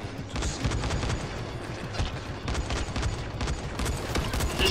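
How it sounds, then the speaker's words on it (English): Rapid gunfire aimed into the dirt in the video game Dying Light, a dense, sustained burst of shots with steady loudness and no talking. "Just shooting at dirt."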